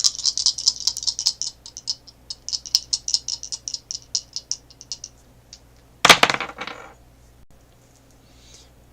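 Dice rattle in a cupped hand during a tarot and astrology reading, shaken in a quick, steady clatter for several seconds before a single sharp tumble and scatter as they are rolled, then near silence; a brief spoken phrase comes at the start.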